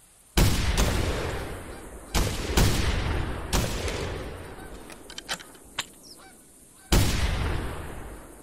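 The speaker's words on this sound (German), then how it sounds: "Da sind unsere Gänse wieder." Geese honk in flight during a goose hunt in the video game The Hunter, their calls sounding amid several sharp, loud gunshot blasts spaced a few seconds apart.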